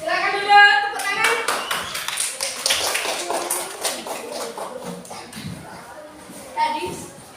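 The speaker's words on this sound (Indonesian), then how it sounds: "Silakan dulu tepuk tangan" A classroom bursts into applause, many hands clapping quickly and loudly at first, then thinning into scattered claps, with children's voices chattering over it.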